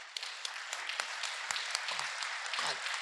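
Audience applause at a law school award ceremony, the Edwin F. Jaeckle Award presentation, a soft, steady patter of many hands heard at a distance with occasional sharper claps.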